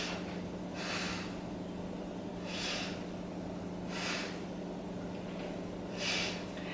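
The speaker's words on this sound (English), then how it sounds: "Now breathe in, breathe out" Slow deep breathing during a beginner yoga hold, four evenly spaced airy breaths roughly every one and a half seconds, close and soft over a steady low background hum.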